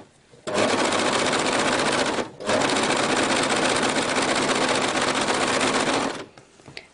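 A sewing machine stitches a hoodie seam in a fast, steady whir, loud and close, running for about two seconds, pausing briefly, then continuing for nearly four seconds more before stopping, with no talking.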